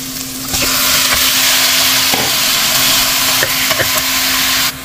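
Boiled beef dropped into a pan of browned onions, bursting into a loud, close, continuous sizzle that holds steady for several seconds, with occasional light scrapes of stirring and no talking.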